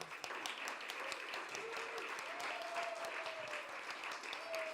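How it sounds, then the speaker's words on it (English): An audience at a county Poetry Out Loud final applauds steadily as teachers walk onto the stage, a dense, continuous clapping that fills the room, with a few faint whistles or cheers mixed in. "And let's clap for them as they come down."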